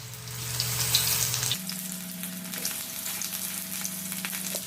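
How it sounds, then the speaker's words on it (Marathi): Yesterday's leftover vadas frying on a hot tava, a steady close sizzle with a low hum that shifts partway through and a crackling hiss continuing throughout, no voices. "तव्यावरच मी हे कालचे ज्या वड्या आहे ना तळून घेते"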